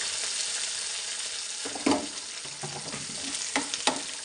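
Onions fry in a pan with curry leaves for a low-oil raw banana fry, a steady close sizzle with occasional louder crackles and stirring scrapes.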